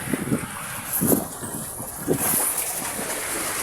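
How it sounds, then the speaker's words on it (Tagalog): Choppy, rough sea surges around a fishing boat, wind-blown water rushing continuously with a few louder swells rising and falling, no one speaking. "Maalon pa ang dagat oh."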